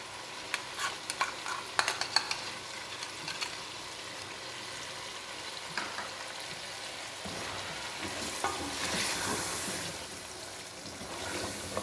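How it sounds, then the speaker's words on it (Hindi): A spoon keeps stirring chicken korma as poppy seeds, almonds and cream are mixed in. A faint, soft sizzle and quiet scraping knocks carry steadily, with no talking. "ये खसखस डालने के बाद हम इसका चम्मच नहीं रोकेंगे, क्योंकि जो खसखस होती है ये चिपकती है साथ। हम लगातार इसमें चम्मच हिलाते रहेंगे।"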